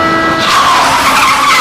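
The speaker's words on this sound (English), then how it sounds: "Sounds assault me, squealing brakes, shrill horns, skidding tires, and Billy shouting" Car tires skidding and screeching on pavement in busy city traffic within an audio drama, a loud, continuous squeal lasting under two seconds with no talk over it.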